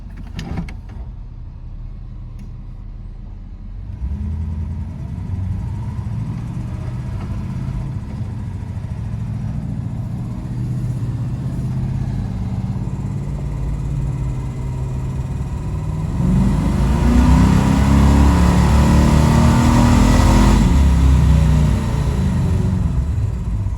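An El Camino engine fitted with Jegs long-tube headers runs on a dyno, its steady loud rumble building and rising through a long pull, getting louder and rougher toward the end.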